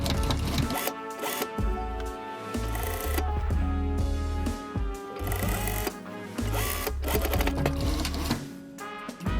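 A sewing machine stitches a seam on a fabric tote bag, a close, loud mechanical rattle that runs in bursts with brief pauses between them, over a faint background.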